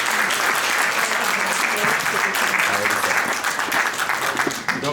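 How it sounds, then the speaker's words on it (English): An audience at a Nikola Tesla anniversary celebration in Ottawa claps in a dense, continuous round of applause for a poet about to recite, with faint voices under the clapping. "a round of applause for Bojan Z"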